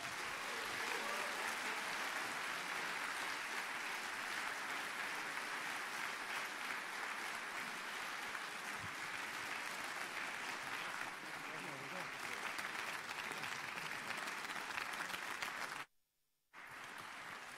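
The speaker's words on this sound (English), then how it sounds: "please give a very warm round of applause for the director of The Death of Stalin" A festival audience gives a long, warm round of applause for film director Armando Iannucci, sustained clapping from a large crowd with faint voices mixed in, cut by a brief silent gap near the end.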